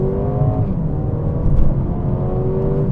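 A 2024 Mercedes-AMG GLA35 accelerating with the pedal down, its engine note climbing steadily inside the cabin over road noise, with no talking.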